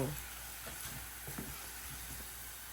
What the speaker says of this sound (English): I'm going in with some raw jeera.